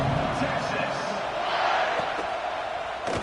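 Stadium crowd in an NCAA college football video game, a steady broad roar of spectators sustained throughout, with faint brief shouts and bumps under it, heard during a kickoff after a touchdown.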